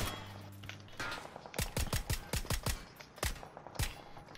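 Game gunfire comes as rapid, loud bursts of close shots in quick rhythmic succession, like automatic fire, after a short stretch of rumble.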